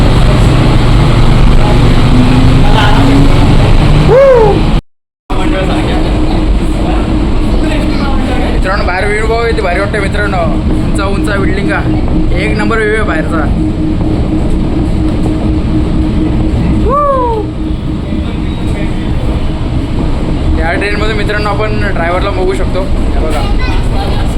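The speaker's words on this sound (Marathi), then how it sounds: "मित्रांनो फायनली मोनो ट्रेन आली आपली" Rumbling interior of a moving monorail train in Mumbai, a steady loud hum and rattle with rising and falling motor whines; people talk over it.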